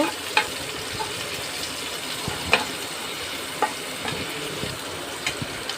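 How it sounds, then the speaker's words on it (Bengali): Chopped onion and garlic paste frying in hot oil for a catfish curry, a continuous crackling sizzle with occasional sharp spatters and stirring scrapes, moderately close and with no voices. "শুরুতেই গরম তেলে পেঁয়াজ কুচি রসুন বাটা দিয়ে দিয়েছি এবং এটা ভালোভাবে কষিয়ে নিব"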